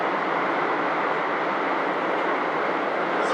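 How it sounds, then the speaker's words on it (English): A long train passes close by with a loud, steady roar of rolling wheels and rumbling wagons that holds unbroken throughout, with no voices over it. "it's a long train. It's a very long train."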